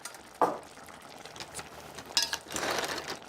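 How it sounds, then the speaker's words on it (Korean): A metal lid lifts off a pot of boiling clam soup with chives and hand-torn dough: a sharp clank, a brief rattle, then a soft rush of bubbling and steam, close by. "이제 뚜껑을 한번 열어볼게요"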